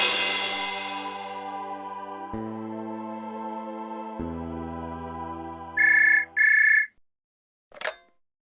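A phone ringtone in a Nepali film chimes in two loud, sustained electronic bursts after a fading musical passage, followed by a brief click.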